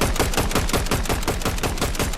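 Rapid bursts of automatic gunfire from a Fortnite match, a dense, continuous rattle of repeated shots at a steady quick rhythm, loud and close throughout with no talking.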